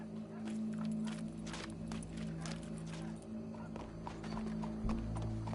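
Horse hooves in the video game Red Dead Redemption 2 clip-clop in a steady walking rhythm over a low hum, close and continuous, with no voices.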